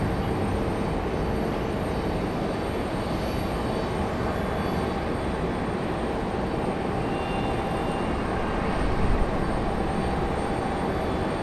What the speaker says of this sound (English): Another Frontier giving way, though, to our FedEx 767 here.